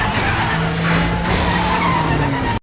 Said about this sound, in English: I don't know how that car's still running